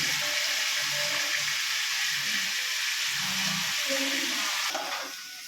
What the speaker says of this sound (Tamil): இப்போ இதை வந்து எண்ணெயில் தான் பொரிக்க போகிறோம்.